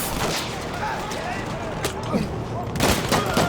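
Gunfire in the Battlefield 1 video game, a dense wash of rapid shots with a few louder bursts toward the end, heard under continuous game noise and faint talk.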